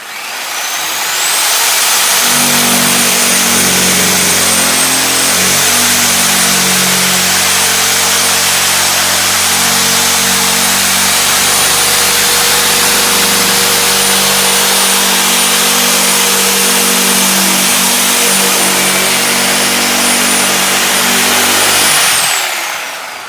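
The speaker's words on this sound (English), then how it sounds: "We're going to have to do a little machining up here" A power tool machines a red stag shoulder pedestal form, a loud close motor whine that spins up, holds steady with slight wavering in load for about twenty seconds, then winds down, with no talk.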